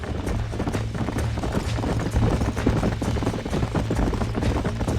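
Dense, continuous clip-clopping of several horses' hooves in the Western video game Red Dead Redemption, a herd being tracked, loud and close, rolling without pause.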